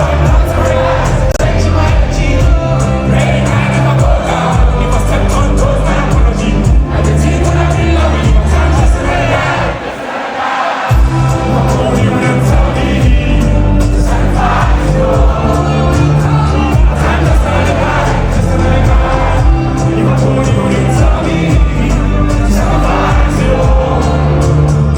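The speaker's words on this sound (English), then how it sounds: "Everyone was just going crazy. The crowd, it was just mad." Concert crowd at a show in the UK screaming and cheering loudly over booming amplified music, dense and sustained, dipping briefly before surging back.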